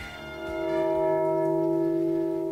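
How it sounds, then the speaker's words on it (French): Church bells ring out with sustained, humming tones that swell slightly and hang in the air, clear and resonant, with no voices present. "Entendez-vous les cloches"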